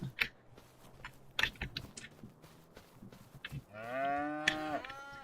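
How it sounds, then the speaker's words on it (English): Cows, young calves grown toward adulthood, moo on a farm: one long, loud, close bellowing moo near the end, preceded by softer lowing, chewing and scattered knocks. "Little bubba cows."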